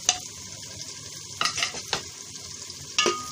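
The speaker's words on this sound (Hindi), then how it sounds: "और थोड़ी देर लहसुन को भून लेंगे।" Garlic paste frying with browned onions for a green bean and potato dish, giving a steady sizzle broken by a few sharp spoon scrapes against the pan, close and clear with no voices.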